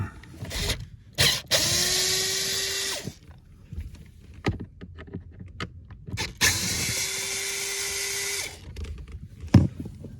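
Cordless driver with a T20 Torx bit backing out interior screws inside a Porsche 971 Panamera: two whirring motor runs of a couple of seconds each, separated by clicks and handling knocks, close up with no talk.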